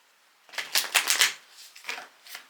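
A deck of oracle cards is shuffled in quick riffling bursts, a long flurry of crisp flutters followed by two shorter ones, close and clear with no talk.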